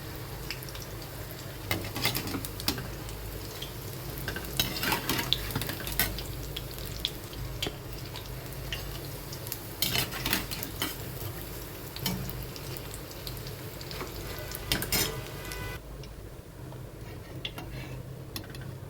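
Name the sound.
battered green chillies deep-frying in a wok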